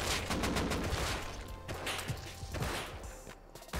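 Gunfire in the video game Rust, dense rattling bursts of shots that overlap into a continuous crackle, fairly close but moderately quiet in the mix.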